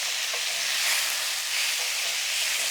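Very thin little steaks for a steak sandwich fry in a hot pan, giving a loud, steady, close sizzle with crackling spits that lasts the whole time, with no voices.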